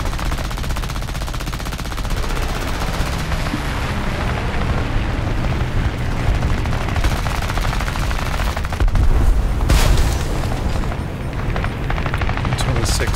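Aircraft machine guns fire during a War Thunder arcade air battle involving an I-15bis biplane, dense rattling bursts over a steady engine roar that swells around the middle, with a voice talking throughout.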